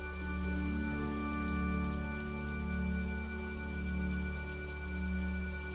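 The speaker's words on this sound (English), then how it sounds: "As you breathe, listen to the sound of rain." Steady rainfall, a continuous hiss of drops under sustained soft tonal drones and gently swelling background music, with no speech.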